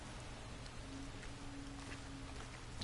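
Rain falls steadily in Red Dead Redemption II, a soft, even patter on surfaces, quiet and continuous with no talking.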